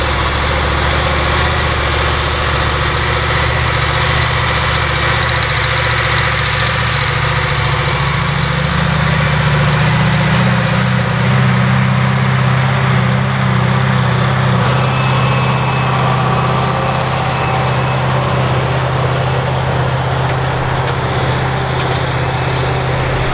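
A Fiat Versatile 44-33 tractor with a 14,800 cc Cummins V8 idles loudly and steadily, a deep, continuous low drone close up that holds for over twenty seconds.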